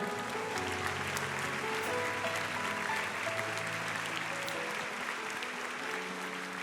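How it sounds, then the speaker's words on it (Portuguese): A church congregation applauds in steady, dense clapping that fills the room and holds evenly throughout, with no voices on top. "Pode aplaudir o Senhor"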